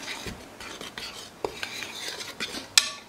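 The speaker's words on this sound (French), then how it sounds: "et on mélange." A utensil stirs flour and a pinch of salt in a large bowl, a run of scraping, clinking strokes against the bowl in an uneven rhythm, close and moderately loud, with no talk.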